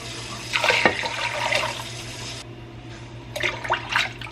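Water runs into a pot for apple pie filling in a home kitchen, two bursts of splashing flow separated by a brief pause, close and fairly loud.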